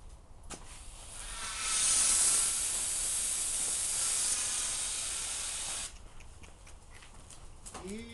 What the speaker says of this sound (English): Easy on the spray.